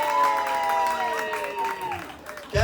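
A crowd gives a short round of applause for Doña Pati, a spread of clapping under an ongoing voice, fading slightly before a louder burst at the end.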